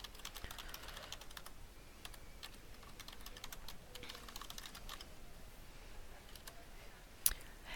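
Fingers tap out a login on a computer keyboard, a quiet, steady patter of key clicks in bursts with one sharper click near the end, nearly alone in a hushed room.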